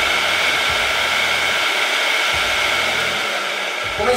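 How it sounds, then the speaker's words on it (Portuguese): A car's electric radiator cooling fan runs at its second speed with a loud, steady, rushing whoosh close by, constant throughout and with no voices. "Segunda velocidade do eletro foi ativada e o ruído excessivamente alto."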